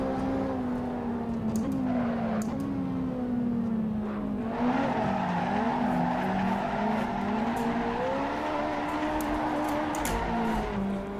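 A Ferrari 458 Italia drifts on semi-slick tyres in fourth gear around the Nordschleife in Assetto Corsa, its engine droning steadily while the tyres squeal and rise in a long, continuous, loud slide.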